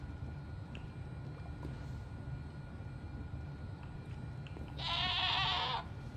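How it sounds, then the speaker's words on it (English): A goat bleats in the Minecraft modpack FTB Skies Expert, a single wavering call of about a second standing out over a steady low game hum with faint background ticks. "There's a goat coming."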